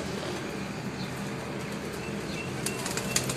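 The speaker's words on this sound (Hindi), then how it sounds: "आप उनके हाथ में ये कबूतर देख रहे हैं" A pigeon held in a hand, flapping its wings in soft, fluttering rustles over a constant outdoor background hiss, with a few sharper flaps near the end.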